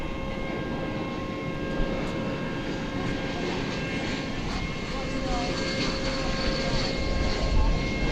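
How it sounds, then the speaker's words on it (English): An American Airlines Airbus A321 jet arriving at DFW at night gives a steady, moderately loud engine roar with faint whining tones, rising a little near the end. "Arriving from Salt Lake City, American Flight 1456 and Airbus"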